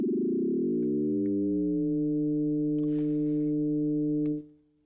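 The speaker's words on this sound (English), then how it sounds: "You get some strange synthesis going on and some frequency modulation." A tremolo control oscillator pushed to audio rate produces frequency modulation synthesis: a buzzy harmonic tone whose pitches glide and converge, then hold steady as a sustained drone before cutting off.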